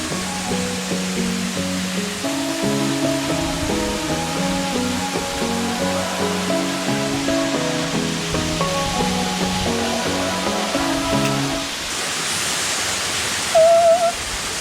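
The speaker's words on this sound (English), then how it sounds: "Enjoy the waterfall." Big, strong waterfall on Greiggs Mountain in St. Vincent, roaring steadily throughout with music playing over it for most of the stretch, then the rushing water alone near the end, with a brief whistle-like tone.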